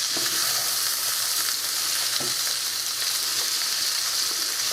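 Sausage and vegetables sizzle steadily in a frying pan while being stirred, a loud, close hiss with faint scraping, no voices.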